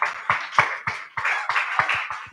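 A small audience at the Feminist Africa Conference 2023 gives presenters a round of applause, a brief, uneven patter of claps from a modest group, fairly close and without talk.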